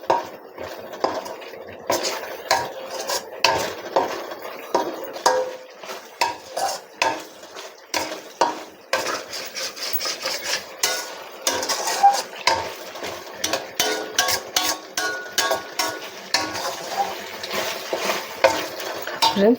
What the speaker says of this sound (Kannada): ಕೈ ಆಡಿಸ್ತಾ ಇರಿ, ಇಲ್ಲಾಂದರೆ ಸ್ವಲ್ಪ ತಳ ಹಿಡಿದು ಬಿಡುತ್ತೆ ಮಸಾಲ.